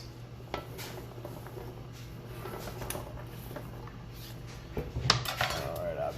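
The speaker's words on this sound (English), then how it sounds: "I'm putting carrots in this cast iron skillet" Carrots dropping into a cast iron skillet, a run of light clattering knocks and scrapes close by over steady low kitchen hum, with a louder rattling cluster near the end.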